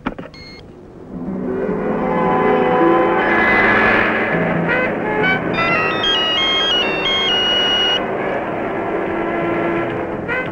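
A phone rings with a melodic electronic ringtone while a hospital calls a doctor during a critical emergency. The tones are loud and sustained for several seconds over a dense, busy background.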